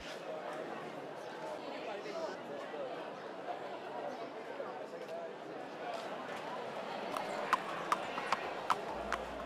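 Horses' hooves clip-clop on a hard town street during a parade in Menorca amid crowd chatter, with a few sharper, closer hoof strikes standing out toward the end.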